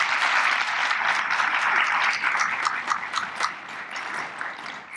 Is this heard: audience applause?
yes